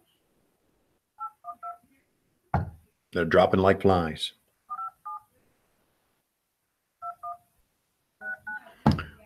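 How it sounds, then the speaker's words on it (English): Touch-tone phone keys are pressed in short bursts of paired beeps while a call is placed, with brief speech and a sharp knock-like sound between the dialing groups. "This phone call is going to be placed to beautiful Kingsport, Tennessee."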